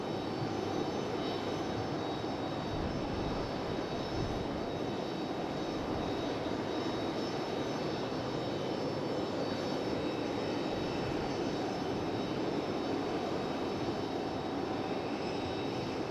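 An airliner arriving at Raleigh-Durham International Airport gives a steady, distant jet roar that holds evenly throughout, fairly faint with broadband rumble.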